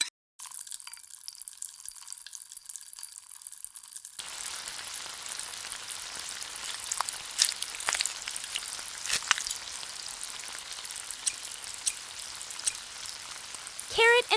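Butter sizzles in a miniature frying pan, a steady crackling hiss with scattered pops that starts after a short quiet pause and keeps going unbroken.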